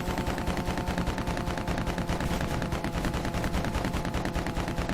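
Rapid, steady rattling gunfire from a vehicle in the video game Lego Batman 2 repeats in a fast, even rhythm throughout, loud and continuous, with no talking.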